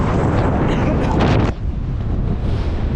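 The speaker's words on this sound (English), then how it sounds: "Well, it's a little windy, really cold." Strong wind buffets the microphone on a cold, exposed mountain ski slope, a loud continuous roar that surges in the first half and then eases to a steadier rush.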